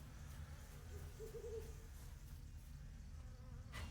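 Bees buzz in the fantasy online game Lord of the Rings Online, in the Esteldin area, as a steady low droning hum with a brief brighter tone partway through, continuous for the whole stretch with no talking.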